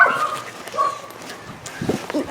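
Rescued dogs from Bečej, including a puppy, let out high whimpering yips and a sharp bark or two, close by and in short bursts, with people talking in the background.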